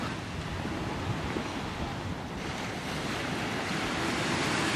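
Sea waves wash steadily onto the beach at Playa d'en Bossa, Ibiza, in October, a dense, even surf roar with light wind, constant and fairly close throughout.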